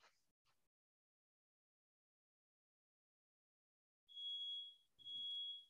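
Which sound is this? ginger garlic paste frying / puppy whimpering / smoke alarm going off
smoke alarm going off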